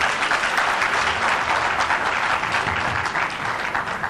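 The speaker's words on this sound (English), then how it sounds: "A round of applause for him." Audience applause at a law society launch event for the International Bar Association, a sustained, even round of clapping that fills the room and fades slightly toward the end.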